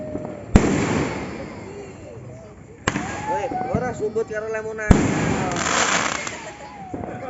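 Fireworks and firecrackers going off on New Year's Eve, with sharp loud bangs at intervals and crackling bursts and whistles in between, while people talk nearby.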